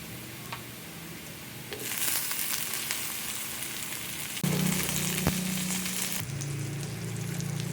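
Chopped tomato hitting hot oil with garlic in a pan, a steady close sizzle and frying crackle that swells as the tomato goes in, with a few stirring scrapes.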